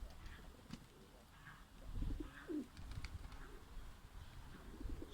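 Pigeons coo softly in a loft, with a few low, rolling calls over a quiet background of faint rustling and distant ambient noise.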